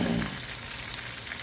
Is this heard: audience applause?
no